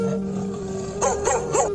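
A cartoon dog yelps after being struck hard with a hockey stick, three short high cries in a row close up, over a steady background music tone.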